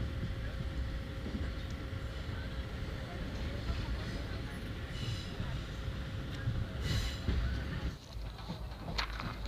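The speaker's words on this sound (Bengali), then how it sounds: "তারপর আবার ট্রেনের যাত্রা শুরু হলো" A passenger train in Assam running along the rails, a steady loud rumble of wheels and carriage noise that continues throughout, with faint background sounds on board.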